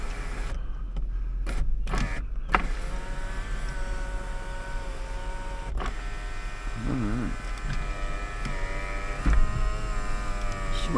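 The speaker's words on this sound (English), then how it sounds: "Windows work." Power windows on a 2005 Toyota 4Runner SR5 4x4 with a 4.7L V8 whir up and down in several short motor runs, close by, over the steady idle of the engine.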